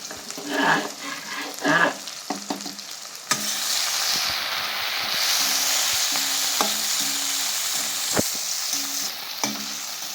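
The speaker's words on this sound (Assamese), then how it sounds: "ধনিয়া ইয়াতে দিলোঁ 3টা শুকান জ্বলা" Coriander and three dry red chillies drop into hot oil and burst into a loud, steady sizzle and crackle, following some clinks and handling noises, with occasional utensil taps and stirring over the frying.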